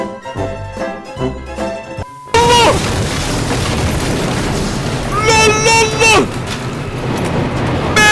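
In the video game Teardown, a loud crash and explosion as two planes collide erupt suddenly after a stretch of game music, followed by sustained roaring noise with excited shouting over it.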